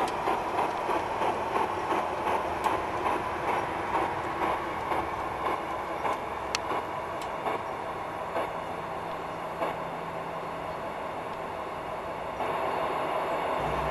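Accucraft K27 Mudhen gauge 1 radio-controlled model steam locomotive with an onboard sound card, coasting to a halt: a steady mechanical rumble with repeated clicks and rhythmic chuffing that gradually eases off.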